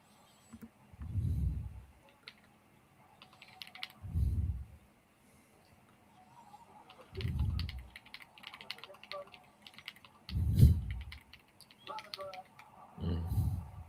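Someone types fast on a computer keyboard during a live football watchalong stream. A steady, close clatter of keys runs throughout beneath recurring muffled low thumps and faint background voices.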